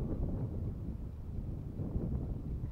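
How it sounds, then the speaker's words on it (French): Outdoor wind buffets the microphone at an RC flying session with a Pterosaur 1400mm pusher plane, giving a steady low rumble with irregular gusty flutter that lasts throughout and has no other clear sound over it. "Là, il y a du vent."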